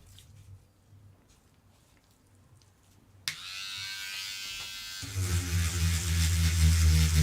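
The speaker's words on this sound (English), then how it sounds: "It's a little hobby sander." Small electric hobby sander, toothbrush-sized, switching on abruptly after a quiet start, then a close, steady high buzz that deepens into a stronger, louder whir as it runs.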